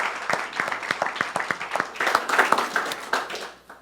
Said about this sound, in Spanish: ¿Cuánto le da un aplauso al Espíritu Santo?